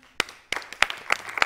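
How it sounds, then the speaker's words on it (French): A small audience claps in a few sparse, uneven bursts, with a pause between the clapping and no voices. "On l'applaudit."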